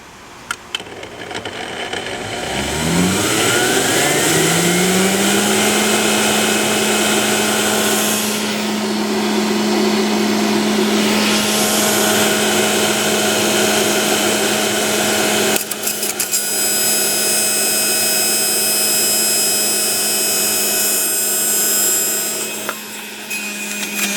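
Breville juicer motor grinding sugar cane against its toothed basket, a loud steady whine that spins up quickly and holds for over twenty seconds with rough crushing texture throughout.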